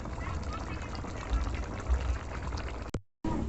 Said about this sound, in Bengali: এবার ফুটিয়ে খুব ভালো করে ফুটিয়ে তারপর আমি নামিয়ে নেব